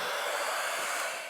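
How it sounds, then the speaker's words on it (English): A hair dryer powered through a Classic Mini EV conversion's bidirectional charging runs with a steady, close, broadband whoosh and no talking. "Surprise, surprise, it's a hairdryer"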